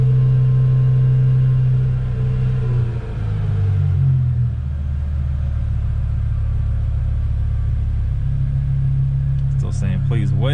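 A BMW M5's S85 V10 engine, just repaired after a Vanos fault, runs with a loud, deep drone that dips and then settles into a steady high idle, with brief electronic chirps at the end.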